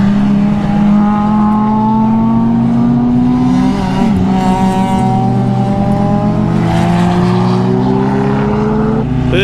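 Loud, steady engine roar of racing cars on the Streets of Willow race track, rising and falling in pitch as vehicles pass nearby, with overlapping motors throughout.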